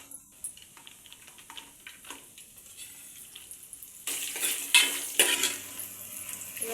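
Dried red chillies roast in a pan for a nalleru chutney: quiet scraping and stirring at first, then a louder sizzle with spoon clatter against the metal pan over the last few seconds.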